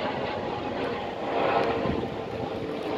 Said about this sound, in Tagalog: Oh, nakikita yung helicopter dito